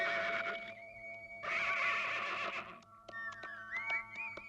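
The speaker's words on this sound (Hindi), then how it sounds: "इसका नाम है काशीनाथ घोड़े वाला" A horse whinnies loudly and close by in an outdoor film scene, the call running in a long wavering burst that rises and falls, with a few fainter calls and noises around it.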